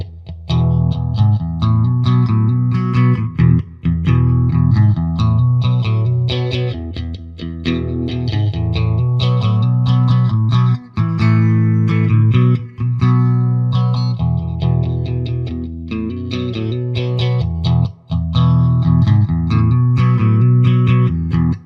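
A Telecaster electric guitar in the middle pickup position plays a continuous riff through an MXR Phase 90 phaser pedal. The tone is loud and sweeping, with a swirling, slightly distorted sound and no talking.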